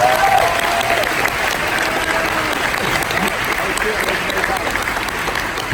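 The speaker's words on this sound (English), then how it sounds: "All this applause will be for you." Sustained audience applause fills a hall during a hypnotist's stage show at Florida Tech, steady and fairly loud for the whole stretch, with a few voices briefly audible underneath.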